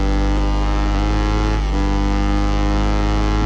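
A racing motorcycle engine in a video game, held at full throttle out of a corner, gives a loud, steady high-revving drone with dense harmonics and one brief dip in pitch partway through.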